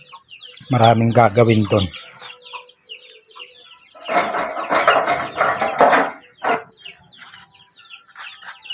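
Small backyard chickens clucking at close range, with short bursts of fowl calls and scratching around, a voice speaking briefly over them at the start.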